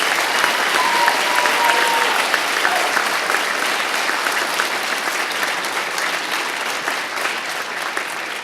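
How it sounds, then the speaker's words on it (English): Sustained audience applause at a fire academy graduation ceremony, honoring graduating recruit firefighters; a steady, full crowd of clapping that holds evenly and tapers slightly toward the end. "Ladies and gentlemen, a round of applause for the firefighters."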